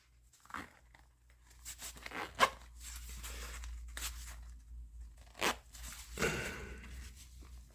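Rustling and crinkling of an overstuffed pocket survival kit bag, with short rasping zipper pulls and tugs in bursts, close up and fairly quiet.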